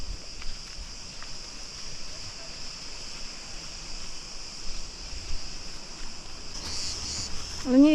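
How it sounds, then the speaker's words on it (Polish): Steady high-pitched cicada buzzing and shrilling fills the air continuously near a palm forest on Crete, a dense outdoor drone with faint rustles and a brief sharper chirp near the end. "cykady się rozochociły."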